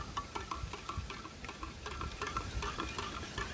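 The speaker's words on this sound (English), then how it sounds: "Let's give that a little stir." Quiet stirring of a Canadian military ration beef and vegetable stew, with soft scraping and light clicks repeating over a faint sizzle-like hiss.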